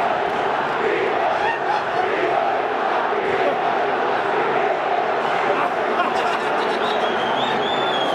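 Football crowd in the stands booing and jeering coach Tomás Boy as he leaves, a dense, loud and continuous roar of voices with shouts rising throughout.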